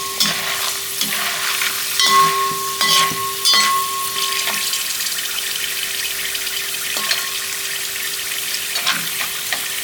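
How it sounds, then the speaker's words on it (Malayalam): Dried tapioca slices fry in hot oil for chips in a home kitchen, a steady loud sizzle close by with occasional stirring clinks and scrapes and no talk. "നമ്മുടെ കപ്പ ഉണങ്ങി നമുക്ക് ഇതിനകത്തോട്ട് ഇട്ടു അപ്പോൾ അവൾ നല്ല ചൂടായിട്ട് ഇടാൻ പോണേ"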